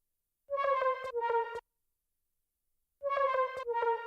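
Synth lead sample in a hard trap beat: two short bursts of bright, buzzy, harmonically rich stabbed notes, each a quick run of four or so punchy hits, separated by a gap of silence, loud and dry with no voices.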